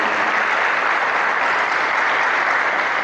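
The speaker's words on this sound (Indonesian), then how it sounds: "Tepuk tangan buat ajang kreativitas hari ini," Sustained, dense applause from a crowd at a school creativity event at MAN Insan Cendekia Serpong, Tangerang, steady and loud throughout with no voices breaking through.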